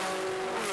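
Formula Ford 1600 race cars in an Irish championship race at Kirkistown brake down into a chicane, a loud, sustained engine drone with a steady pitch over the brief moment.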